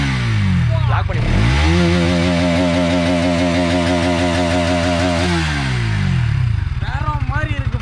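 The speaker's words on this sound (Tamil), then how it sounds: "நம்ம நாப் பண்ணி பிடிக்கிறப்ப அந்த வண்டி சவுண்ட் பார்த்தீங்கன்னா எப்படி கொடுத்துருக்கு" A Bajaj Pulsar NS200 motorcycle engine is revved hard, climbing quickly to a loud, sustained high-rpm buzz held for several seconds, then dropping back to a rough, lumpy idle, close up.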